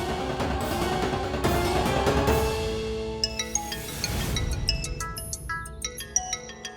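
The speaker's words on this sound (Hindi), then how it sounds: "ये किसका फोन आ गया?" A phone ringtone plays as a repeating electronic melody of bright tonal notes, loud and close over a dramatic music bed, with no speech.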